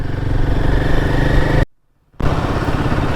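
A loud Royal Enfield motorcycle engine chugs steadily up close, cutting out to silence for a moment before resuming just as strongly.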